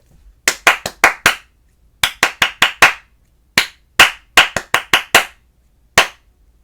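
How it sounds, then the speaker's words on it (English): Hands clapping a rhythm pattern in a music lesson, sharp, close, dry claps in short grouped bursts of three to five, separated by brief silences, ending with a single clap. "no words, just clap."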